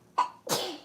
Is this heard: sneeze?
yes